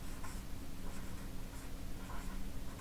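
A glitter marker writing on paper gives a soft, continuous scratchy rasp of strokes lasting a few seconds, close and quiet, with no talking.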